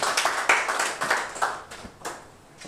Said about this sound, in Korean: 이사장님을 따뜻한 박수로 환영해 주시기 바랍니다